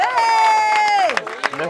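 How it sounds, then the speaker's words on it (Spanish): A festival crowd at the Sancocho Festival in Patanemo cheers and claps for the Mi Bohío kiosk, one loud sustained shout over scattered clapping, with voices breaking in toward the end. "Un aplauso para Mi Bohío."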